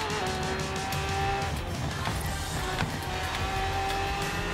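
Lamborghini engine roaring steadily in Forza Horizon 3, a loud continuous drone with rising and falling pitch, light tire noise and brief skid-like squeals over the constant motor.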